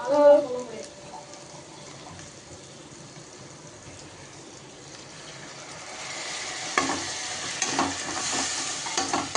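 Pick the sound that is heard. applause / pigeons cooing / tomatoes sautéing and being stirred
tomatoes sautéing and being stirred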